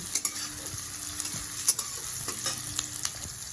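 Steady crackling sizzle of onions and chillies frying in a pan, with occasional scrapes and taps of a spoon stirring throughout.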